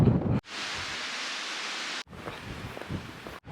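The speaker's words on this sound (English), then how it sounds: "wind has been so strong today" Strong wind buffeting a microphone outdoors on the Pennine Way between Bellingham and Byrness, a loud roaring rush in sustained gusts broken by abrupt brief drops, with no voices.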